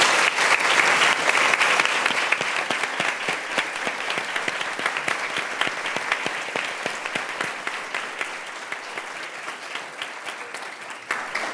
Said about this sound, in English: give you all a big round of applause.